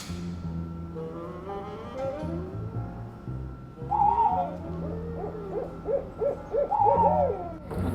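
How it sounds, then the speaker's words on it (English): Rare snowy owls from Russia hoot in a series of soft, wavering calls over a low musical background, fairly close and moderately loud. "I just got this shipment in from Russia of rare snowy owls earlier this week."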